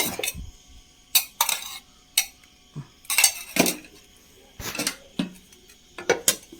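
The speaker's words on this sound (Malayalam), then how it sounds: "പിന്നെ നമുക്ക് കുറച്ച് തൈര് ചേർത്തിട്ടൊന്ന് ചതച്ചെടുക്കാം" Vegetables with turmeric and curd being crushed in a pot for aviyal, with scattered clinks and scrapes of a utensil against the metal pot, irregular bursts separated by short pauses, close and fairly quiet.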